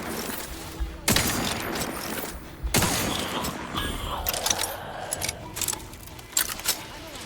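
Bursts of gunfire in The Outer Worlds 2: sharp loud shots around the one- and three-second marks, then a string of smaller clattering pops and impacts amid ongoing game noise.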